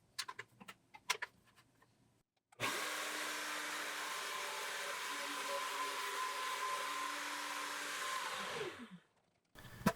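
A PantoRouter joinery machine runs and cuts a mortise in wood for an outdoor table: a sharp start after faint clicks, then a steady whirring router drone for about six seconds that winds down and stops.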